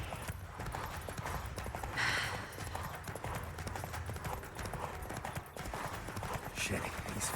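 Roach the horse gallops in The Witcher 3, rapid rhythmic hoofbeats drumming steadily throughout at moderate volume, with a couple of brief chime-like game sounds and voices speaking over the running.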